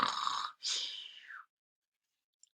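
A snoring sound effect for a sleeping dinosaur joke: two raspy, breathy snores in a row, the second longer with a rising whistle at the end, followed by silence and a tiny click.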